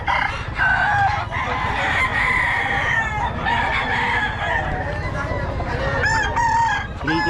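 Chickens at a poultry market in Bocaue cluck and crow steadily throughout, several roosters giving repeated cock-a-doodle-doo calls close by over a dense, busy background.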